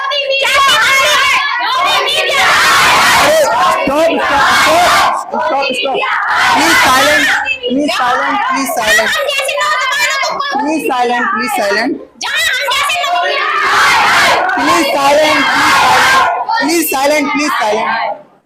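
A protest crowd at a packed demonstration in India shouts and screams loudly and continuously, many voices overlapping close by, with only brief drops in intensity.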